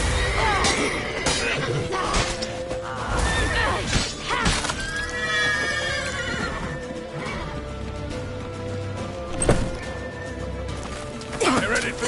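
A horse neighs loudly in a tense chase scene from The Witcher 3, a shrill whinny rising over clattering hooves, crashes and shouting voices, with further snorts and impacts scattered through the commotion.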